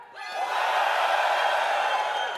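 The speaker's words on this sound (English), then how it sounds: "The louder you cheer, the more damage Rage will do" A live audience at a Dungeons & Dragons stage show at RuneFest swells into loud, sustained cheering and whooping that holds as one continuous roar.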